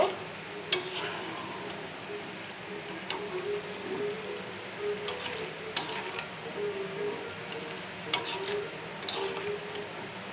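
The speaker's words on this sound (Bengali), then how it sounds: "আমি আলুটা আর একটু পরে দিব তো হতে থাক এখন একটু লাড়াচড়া করে নিব" Potatoes frying in a pan in a home kitchen are stirred with a utensil, giving a steady soft sizzle broken by intermittent scraping and clinks of the spoon against the pan.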